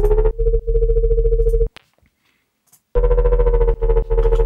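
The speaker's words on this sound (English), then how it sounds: "Creating that nasty, gritty bass sound" A heavily distorted square-wave synth bass made in Serum plays as gritty, buzzing sustained notes in two loud phrases, split by a short gap of near-silence.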